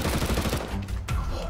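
Video game gunfire from an M4 rifle crackles in a dense, rapid burst of shots. The fire fills most of the moment and is loud and close, with a short pause near the end before it resumes.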